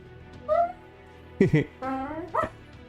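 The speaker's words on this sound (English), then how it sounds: "These dogs always rambunctious playing around." Dogs playing rambunctiously, with a few short yips, barks and high whimpers in quick bursts, close by and fairly quiet.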